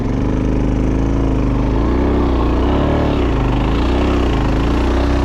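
Suzuki DRZ 400 dirt bike riding on beach sand along a coastal trail, loud continuous engine drone rising and falling with throttle, heavy wind rumble throughout, no speech.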